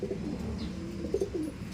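Soft, low cooing from a pigeon or dove, repeated a few times, quiet and close against a faint background hum.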